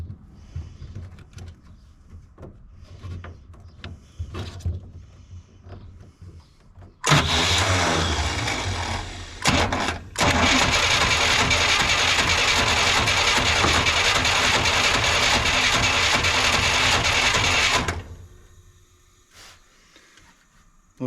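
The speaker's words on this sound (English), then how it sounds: "I'm going to turn it over and see if I can get it to pull fuel from the tank." A 1957 Chevy 4x4 engine cranks over on battery power, a loud sustained starter whir of about ten seconds with a brief pause near the start, after quiet shop noises.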